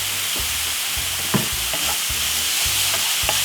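Vegetables stir-fried with a splash of soy sauce crackle loudly in a pan, a dense steady sizzle broken by rhythmic stirring scrapes and clatters.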